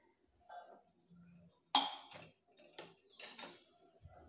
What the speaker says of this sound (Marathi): हे छान कमी पारवर आपण हे तांदूळ भाजून घेणार आहे